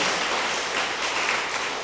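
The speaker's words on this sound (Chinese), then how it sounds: "我们这个时候说给他们一个温暖的掌声，给他们鼓励一下，可以吗？" A church congregation applauds during a Sunday worship service, with dense, steady clapping from many hands that holds loud and even throughout the short burst, with no voices over it.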